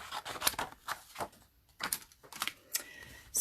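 Scissors cut a piece of cardstock with a series of close, crisp snips and rustles in an irregular rhythm, with a short pause midway and no talking.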